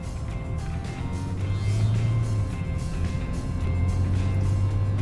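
A Mercedes CLS 350d diesel car driving, with a steady low engine drone and road rumble heard from inside the cabin. Engine pitch rises and falls gently.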